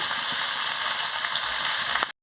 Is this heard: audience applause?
no